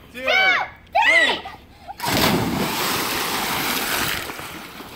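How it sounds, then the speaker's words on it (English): People shout excitedly for about two seconds, then ocean waves and splashing water take over in a loud, continuous rushing wash close by. "It's the ocean."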